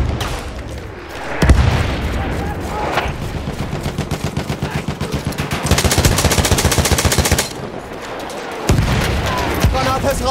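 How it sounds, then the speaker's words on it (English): In the World War I shooter Verdun, an enemy artillery barrage pounds amid rapid machine-gun fire, with heavy booms and dense rattling bursts layered throughout, loud and chaotic, while voices speak over the din. "Wait for the enemy artillery barrage to stop firing."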